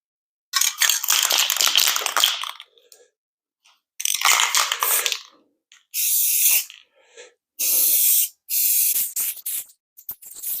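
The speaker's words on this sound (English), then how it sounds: "now we'll go ahead and put a clear coat on top of this." Clear coat sprays onto a wooden flag in five separate hissing bursts of one to two seconds each, close and loud, with silent pauses between them.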